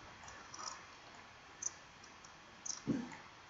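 Computer mouse clicks while working in Autodesk Inventor CAD software: a few faint, sharp clicks, a single one followed by a quick pair, over a quiet room hiss.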